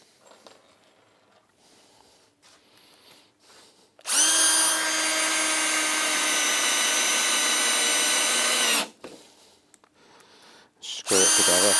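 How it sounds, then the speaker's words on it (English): A power drill bores a pilot hole down through glued pine for a Mission-style clock, running loud and steady for about five seconds mid-clip before stopping, then starting again briefly at the end; quiet workshop sounds before. "Just going to drill a pilot hole"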